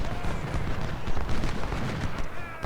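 Massed rifle volleys and battle din fill the Cedar Mountain engagement of the Civil War strategy game Ultimate General: Civil War. The rolling crackle of fire is dense and continuous, with distant booms mixed in.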